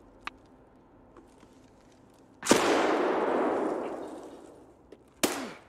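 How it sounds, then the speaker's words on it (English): Gunfire in Escape from Tarkov: one sharp distant shot, then a loud close burst with a long rolling roar that fades over about two seconds, and a second sharp report near the end, with no talk. "Oh, shit, I'm getting shot."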